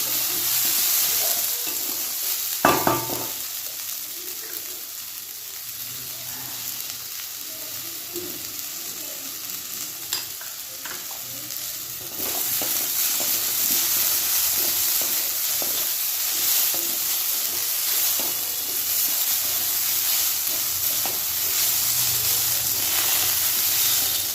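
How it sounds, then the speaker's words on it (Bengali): Broken wheat (dalia) frying in a pan, giving a steady close sizzle with stirring scrapes and occasional clatters throughout, growing a little louder partway through. "ডালিয়াটা দিয়ে একটু ভাজা ভাজা করে লবণ দিয়ে জল দিয়ে তারপর আমি একটু ঢেকে দেবো।"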